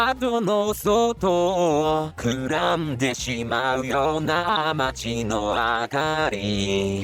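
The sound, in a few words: staticky synthesized singing voice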